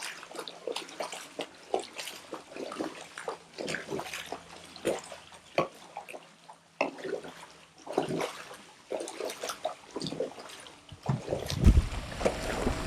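A brush scrubs the tile line of a dirty swimming pool at the water surface, irregular splashy swishes and sloshes in uneven strokes, fairly quiet, with a heavier splash near the end.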